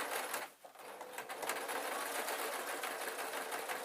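A sewing machine runs steadily and close up, sewing the final seam of an oilcloth peg bag in one continuous whirring stretch with a brief dip near the start.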